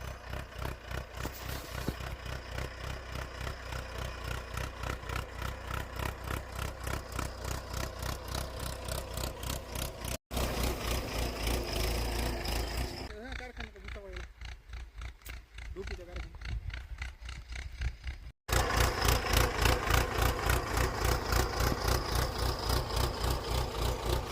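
A steady, rumbling tractor engine chugs continuously with a regular throb, close by, pulling a bed-forming implement through a watermelon field, briefly dipping mid-way while a voice talks faintly underneath.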